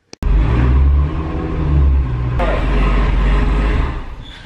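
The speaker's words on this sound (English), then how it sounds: "we were just revving it" An 800 hp Hellcat engine revs in a loud, deep, rumbling surge that swells and holds, with people talking over the noise.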